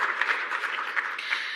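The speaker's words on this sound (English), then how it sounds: "Please, another round of applause for Nelson." An audience at a climate resilience symposium gives a round of applause, a short, even spatter of many hands clapping at moderate volume.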